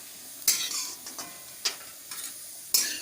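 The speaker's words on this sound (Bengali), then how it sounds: "এই যে দেখো ভাজা হয়ে এসছে, এবার আমি একটা একটা করে তুলে নিচ্ছি" Katla fish roe fritters crackle softly in frying oil while a utensil lifts them out one by one, producing a few sharp metallic clinks over the quiet sizzle; no talking.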